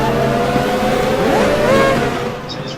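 A race car engine screams at high pitch, revving and shifting continuously as the car accelerates, loud and close with a synthetic game-like tone.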